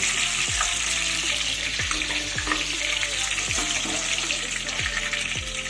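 Ridge gourd fritters deep-frying in hot oil in a pan, a loud steady sizzle with repeated soft knocks and scrapes as the fritters are turned, no talk.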